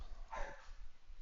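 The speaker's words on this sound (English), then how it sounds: "Sorry about the dog." A single short dog bark or yip sounds in the background, fairly faint and brief, over low steady room noise.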